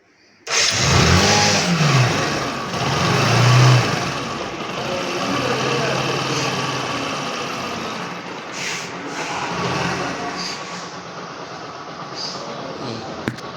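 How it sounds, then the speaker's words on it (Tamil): A motorbike engine started through a direct relay connection turns over and catches, then runs at a rough, steady idle with a couple of small revs, close and loud throughout. "ரிலேவை டைரக்ட் கனெக்ஷன் பண்ணோம்னா ஸ்டார்ட் ஆகுதான்னு செக் பண்ணி பார்க்க போகிறோம்"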